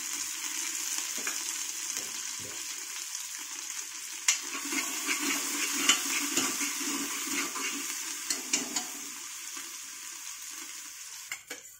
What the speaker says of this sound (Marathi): कांदा चांगला लालसर करून घ्यायचा आहे आपल्याला आणि त्याच्यात काय करायचं आहे, अर्धी कोथिंबीर टाकून घ्यायची।